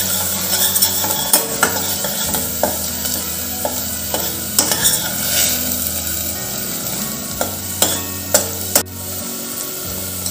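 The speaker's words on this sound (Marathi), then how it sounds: "तेलात हिरवे वाटण छान फ्राय करून झाले आहे, छान कोरडे झाले आहे, तेलही सुटायला लागले" Green chilli masala paste fries in oil in a pressure cooker for Khandeshi udad dal, bright sizzling hiss broken by repeated close scraping stirs of a spoon against the metal base.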